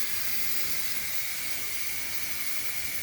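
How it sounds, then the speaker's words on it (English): Steady, continuous hiss of steam venting from a pressure pot of spicy pumpkin soup, close and unbroken for the whole stretch with no voices. "This is the most frustrating part, is waiting for the steam to release."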